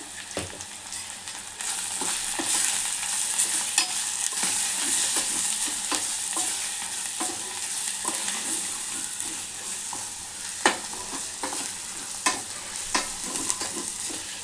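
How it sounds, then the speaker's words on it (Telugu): Spices and turmeric fry in a pan for a Telangana-style fenugreek-leaf moong dal, with a steady close sizzle broken by repeated scraping and clinking stirring strokes, and no talking. "ఇవి మంచిగా పచ్చివాసన పోయేంత వరకు వేయించుకొని ఇప్పుడు దీంట్లో పసుపు వేసుకుందాం"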